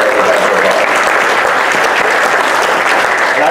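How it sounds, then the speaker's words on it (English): Audience applause right after a morning of speakers, a dense, steady wash of many hands clapping at close range that fills the whole stretch. "Let's give a round of applause"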